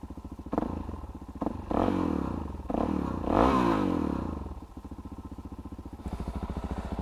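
A Suzuki DRZ 400 SM supermoto single-cylinder engine cranks, catches and revs up in several loud bursts, with mechanical clatter, then settles into a steady, pulsing idle close by.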